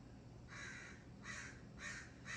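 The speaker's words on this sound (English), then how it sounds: "the crows are really into this" Four harsh caws from a crow, evenly spaced and fairly distant, over a low steady background hum.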